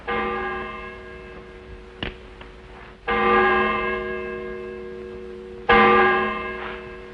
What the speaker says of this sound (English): That bell was your call to prayers, mister.